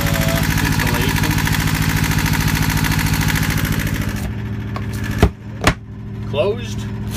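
Steady mechanical engine idle running inside a compartment lined with reflective insulation, a dense rhythmic drone that loudens as a door opens, then briefly drops as the door swings closed and open, with a few thumps and a voice near the end.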